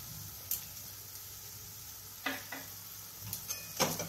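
A spatula scrapes and stirs muri ghonto with salt in a frying pan, giving a few distinct clinks and scrapes over a soft, steady sizzle, with no talking.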